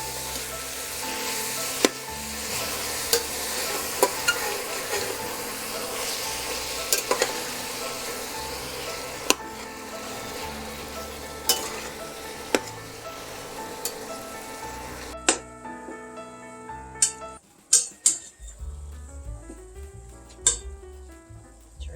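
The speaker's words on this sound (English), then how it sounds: "Now my ground beef is low fat, so I might have to add a little more oil in here." Low-fat ground beef browning in oil in a skillet, an even sizzle with sharp utensil scrapes and taps against the pan that grow sparser and quieter toward the end.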